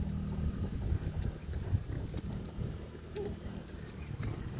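A motorboat engine drones on the water along a baywalk, a low continuous rumble at some distance mixed with wind buffeting the microphone.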